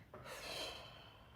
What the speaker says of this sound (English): Close your eyes and take a deep breath with me.